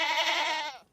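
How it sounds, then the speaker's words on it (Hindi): A goat gives one loud, close, quavering bleat lasting under a second, with no other sound around it. "मुझे आखिरकार बकरियां दिख चुकी हैं"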